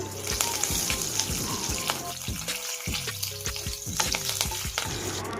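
Mustard seeds, cumin and curry leaves crackle in hot oil for coriander masala rice, a dense, close sputter of quick pops and sizzle with a few spoon scrapes against the pan.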